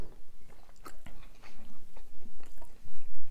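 Close, loud chewing and biting of homemade pizza at a family mukbang, with crunchy irregular bites and wet mastication filling a few seconds, no talking.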